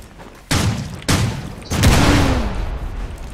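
Three loud bursts of gunfire in Rules of Survival go off in quick succession, each an abrupt booming blast with a lingering rumble, the last one heavier and longer.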